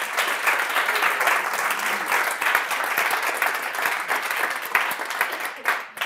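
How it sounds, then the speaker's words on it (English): Loud, dense applause from an audience after a LinkedIn keynote at a corporate event in Zurich, a full continuous roar of clapping close up, easing briefly near the end before resuming. "Big applause for Chris."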